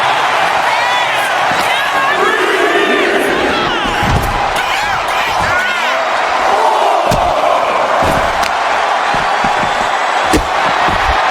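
Wrestling arena crowd in WWE 2K25 during a Penta versus Stone Cold Steve Austin match, a steady roar of cheering and whoops with scattered slams and impacts, a commentator's voice running over it.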